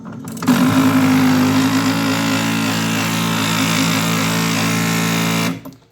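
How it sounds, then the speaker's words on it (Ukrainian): Stepper motor on an automatic cross-cut saw skipping steps as it drives against its end stop, a steady loud mechanical hum and buzz with a strong low tone lasting several seconds before cutting off. "Бачите, двигун просто пропускає кроки і нічого тут не ламається."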